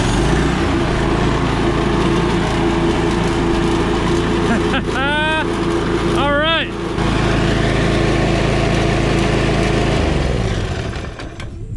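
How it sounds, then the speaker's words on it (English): A small lawn mower or weed eater engine with its top off whirs as a drill spins it over, with rising whining sweeps from the drill twice amid a steady droning motor. "we're gonna give it the good old drill start"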